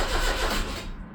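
Ignition switched on and engine cranking on an old Morris Marina car, a short dense burst of churning mechanical noise, fairly close and steady, fading slightly at the end.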